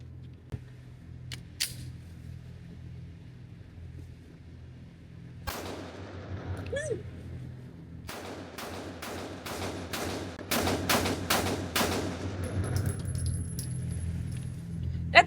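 Glock pistol fired rapidly through a 100-round magazine, a fast string of sharp cracking shots clustered in bursts, loud and close, with scattered clicks before the shooting starts.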